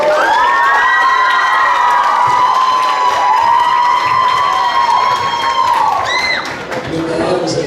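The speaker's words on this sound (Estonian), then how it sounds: "Okei, suur aplaus!" A school crowd at a gymnasium playback show cheers, whoops and applauds loudly with shrill children's shouts, while a sustained electronic tone glides over the noise and fades near the end.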